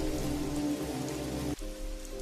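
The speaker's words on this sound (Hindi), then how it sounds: "वो दोनों बच्चों को लेकर कैलाश के घर की तरफ तेज बारिश में चलते हैं" Heavy rain pours steadily in a Hindi cartoon story as two children are led through the night, a dense continuous downpour with a brief dip near the end, no voices.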